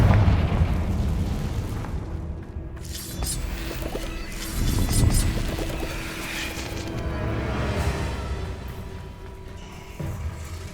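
Confringo blasting spells go off in Hogwarts Legacy, a series of deep booming explosions with rumbling bursts that swell and fade over a sustained loud battle-like background, no voices.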